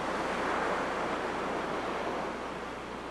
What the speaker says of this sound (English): Incandescent streams are chilled by the waves and shattered into steaming chunks of black sand